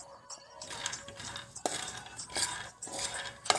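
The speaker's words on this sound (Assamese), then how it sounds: "আৰু এখন কেৰাহীত বাদামকেইটা মচমচীয়াকৈ ভাজি ললোঁ।" Peanuts being dry-roasted until crisp in a wok are stirred in quick bursts of scraping and rattling, quiet, close and separated by short pauses.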